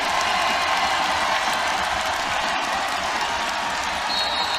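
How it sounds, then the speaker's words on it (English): A packed arena crowd at a women's college basketball game between Indiana and Michigan State cheers and applauds in a steady, loud roar that never lets up, with an announcer speaking over the noise. "now something for this crowd to cheer about."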